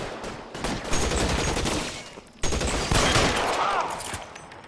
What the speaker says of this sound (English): They're in open ground, Jack. Shoot 'em up